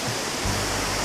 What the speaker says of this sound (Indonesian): Air terjun Oehala ini letaknya ada di Desa Oehala